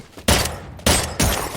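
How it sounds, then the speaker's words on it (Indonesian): Gunfire in a scene from the 2022 Korean spy film Hunt, with three loud, close bursts of shots separated by brief pauses. "Yu Jiang menembak ke arahnya."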